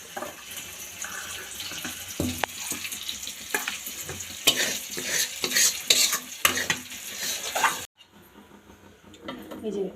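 Chana dal fries in a pan with close, steady sizzling and repeated stirring scrapes. Running water can be heard nearby, and a voice talks underneath. The frying cuts off abruptly near the end, leaving a quiet room.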